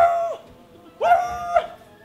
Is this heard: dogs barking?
yes